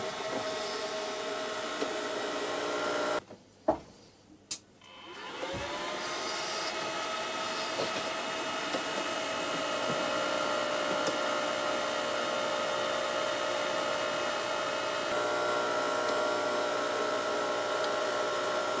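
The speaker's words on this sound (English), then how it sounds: "you can hear the cryogenic pump working" A cryogenic cooling pump in an L3 NightConqueror MWIR thermal camera starts up after a few clicks, then settles into a steady, fairly quiet whirring hum with a faint high whine that runs on to the end.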